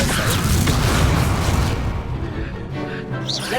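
Spell effects from Hogwarts Legacy gameplay: a loud sustained magical rumble and whoosh with booming bursts, fading into a softer shimmering tail near the end.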